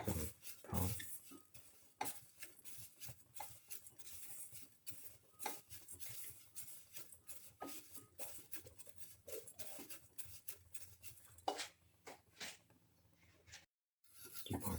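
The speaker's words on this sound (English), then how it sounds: "Thoroughly saute and mix until the rice flakes become brown." Rice flakes are sauteed and stirred in a pan, with soft scraping and clicking of a spatula against the metal in an uneven, steady rhythm, faint and close.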